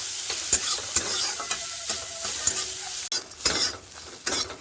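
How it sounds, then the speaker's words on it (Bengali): Soaked soybean chunks fry in oil with turmeric and salt, giving a steady close sizzle with stirring scrapes, and a sharper burst of sizzling and clatter partway through. "এর মধ্যে দিয়েছিলাম ভিজিয়ে রাখা সয়াবিন, তার মধ্যে দেবো একটু হলুদ আর লবণ দিয়ে ভালো করে ভেজে নেব।"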